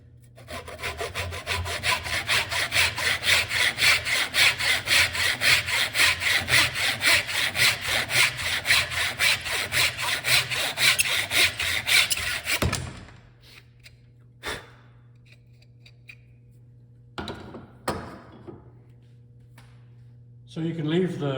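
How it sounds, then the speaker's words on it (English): A hand saw cuts through wood to trim the end off a tenon in Chinese/Japanese-style joinery, with rapid, even rasping strokes for about twelve seconds, then the piece drops off with a few knocks and quiet handling. "we can take a saw and just cut this piece off the end"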